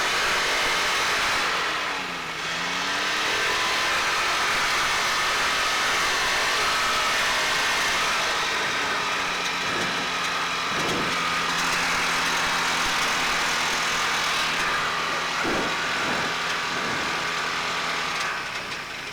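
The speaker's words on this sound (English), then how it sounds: "Use choke to kill the engine." A Challenger 2 ultralight airplane's engine runs up near 3,500 RPM on the ground, a loud, steady drone with a brief dip in pitch early on and a slight waver later, continuous throughout.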